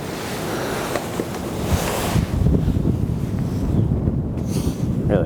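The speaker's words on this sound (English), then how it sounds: "that's a lot of wind" Strong outdoor gusts buffet the microphone at an abandoned farm, producing a continuous loud, rumbling roar with surging peaks throughout.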